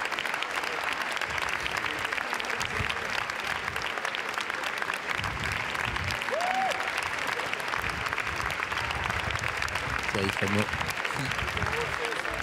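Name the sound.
audience applause at Cannes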